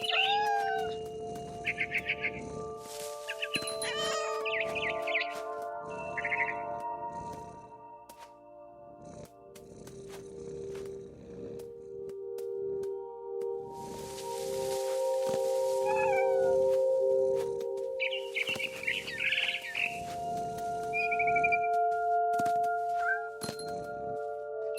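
A cat meows repeatedly in What Remains of Edith Finch. Several distinct meows and yowls come over gentle sustained music, mixed with occasional bird chirps and light clinking.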